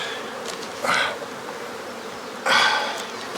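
Honeybees at an opened hive during a late first inspection buzz in a dense, agitated hum, with two louder close passes as individual bees zip by the microphone.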